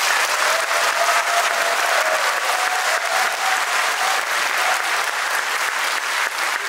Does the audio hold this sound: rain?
no